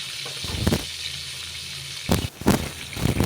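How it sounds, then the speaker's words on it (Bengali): Pieces of latha fish fry slowly in oil for a Bengali curry, sizzling steadily with louder spitting bursts that flare up now and then. "এই মাছটাকে আস্তে আস্তে করে লাল করে করে ভাজতে হবে একটু সময় নিয়ে"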